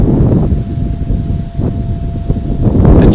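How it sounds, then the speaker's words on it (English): Strong wind gusts buffet the outdoors around a woodworking shop area, a continuous loud broadband rush with swells and dips, and trees and a tarp stirring in it. "It's windy out here."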